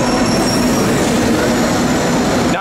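A Rome metro train stands in an underground station, its loud steady electric hum and rolling rumble filling the space close by until it stops abruptly at the end.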